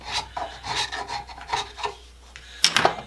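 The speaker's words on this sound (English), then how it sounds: "I just shave away the rusty spots, because that's where it's hitting." Rasping, rubbing strokes of a tool shaving rusty spots off a wooden garden rake handle fitted on a metal tube, a series of close, uneven scrapes ending in a louder burst of scraping.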